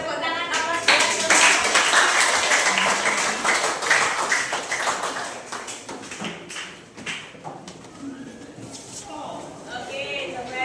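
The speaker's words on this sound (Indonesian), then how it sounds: "Beri tepuk tangan apa?" Students in an Islamic religious education class give a short round of clapping, with sharp taps and claps mixed with nearby voices, fading into murmured talk.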